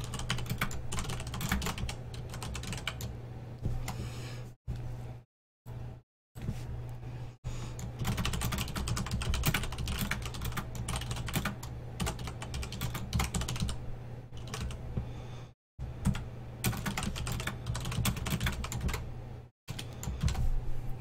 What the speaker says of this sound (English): sorry about the little bit of typing